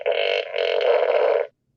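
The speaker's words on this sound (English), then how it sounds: "It's a fart gun." A toy fart gun lets out one long, loud, buzzy raspberry of about a second and a half, with a short dip partway through, then cuts off into silence.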